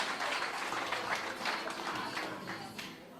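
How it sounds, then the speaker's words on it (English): A crowd at a K1 kickboxing title fight applauds the two fighters, a dense wash of clapping that stays steady and fairly distant for a few seconds before easing off slightly. "they don't need any encouragement, this crowd, to applaud two brave warriors like that"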